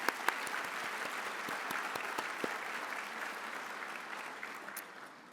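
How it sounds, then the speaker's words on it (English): Audience at an awards ceremony applauds steadily, a dense wash of clapping with a few sharper claps, fading slightly toward the end, moderately distant. "Let's give them all a huge round of applause."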